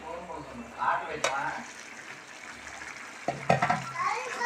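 Country chicken curry sizzles and bubbles in a pot over a high flame, a steady frying hiss with brief stirring knocks near the start and a louder scrape toward the end.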